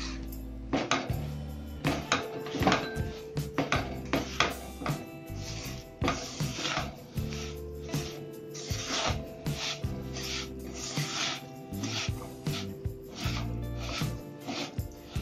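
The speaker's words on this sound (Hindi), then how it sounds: "और अच्छी तरह से इसको मिक्स करेंगे हम इसको हाथ से मिलाएंगे" Khoya (mawa) peda mixture kneaded by hand in a bowl, with repeated close rubbing and squishing strokes and occasional light knocks against the vessel.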